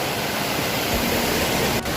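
The Ban Ganga river rushes past where people bathe in its cold water, a loud, steady broadband roar of flowing water with a brief dip near the end and no voices.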